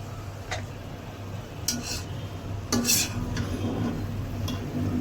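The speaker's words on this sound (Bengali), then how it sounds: "আমি এখন নেড়ে দিব আবার ঢাকনাটা খুলে।" Fried water spinach greens stirred in a pan after the lid comes off, giving a few sparse utensil clicks and scrapes over a steady low kitchen hum, close by and without speech.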